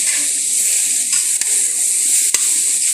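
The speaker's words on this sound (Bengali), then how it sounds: "আর একটু নেড়ে চেড়ে নেব" Steady frying hiss in a pan with roasted ground cumin being stirred in, a couple of faint scrapes breaking the continuous sizzle, close and fairly loud with no talk.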